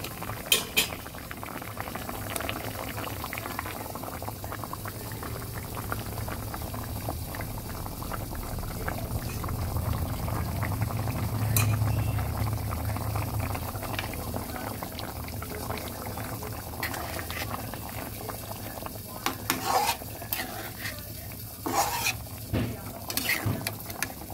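Koi fish curry broth with potatoes boiling steadily in a pot, a continuous bubbling simmer with a few clinks and stirring noises near the end.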